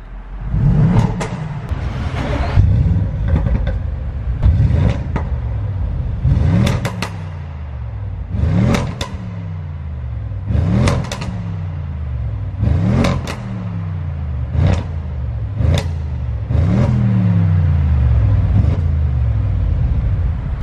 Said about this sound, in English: that noise is something else, man. You know, you can't beat big displacement engines or having a V8